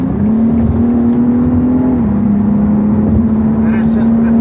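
BMW 2 Series (2014, 228i/M235i) in sport mode, its engine holding a steady tone that dips slightly then settles, loud and close from inside the cabin, with faint voices and interior noises at the end.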